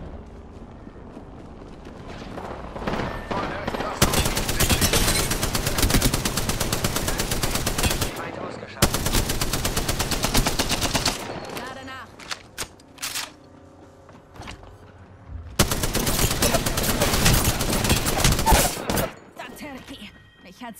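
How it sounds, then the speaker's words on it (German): Loud, rapid automatic gunfire in the video game Apex Legends, long sustained bursts broken by short pauses and softer in-game effects between them. "Werde beschossen."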